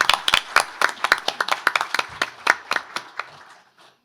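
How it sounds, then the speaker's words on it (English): A smallish crowd at a city State of the City event applauds the city staff, loud distinct individual hand claps close by that thin out and fade over the last second. "Let's give them a round of applause for all the work you do every day."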